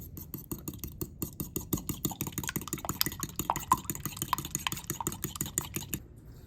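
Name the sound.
beating eggs with a fork in a bowl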